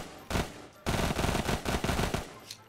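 An SMG firing in Black Ops 3 Zombies lets off three quick, loud bursts of rapid close-range shots with short pauses between them.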